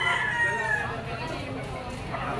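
A yellow-legged banderado gamefowl rooster of sweater dome bloodline crows once, a drawn-out call that falls in pitch, heard over steady outdoor background noise.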